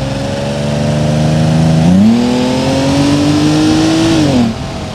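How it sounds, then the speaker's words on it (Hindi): A Land Rover Defender's engine revs hard while driving off-road through snow, a loud, close drone climbing in pitch, shifting up, rising again, then easing off near the end. "गाड़ी तब तक तो नॉर्मली चलती रहती है जब तक इसकी टर्बो नहीं खुलती।"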